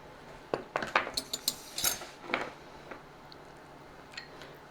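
Metal spoon clinking against a little bowl while cheese grits are served, a quick run of light taps and scrapes over about two seconds, then a few sparse clinks, close and fairly quiet.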